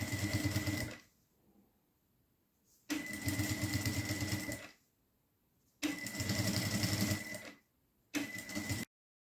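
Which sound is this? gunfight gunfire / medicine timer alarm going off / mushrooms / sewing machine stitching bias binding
sewing machine stitching bias binding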